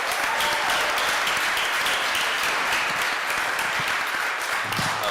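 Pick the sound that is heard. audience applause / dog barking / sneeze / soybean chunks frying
audience applause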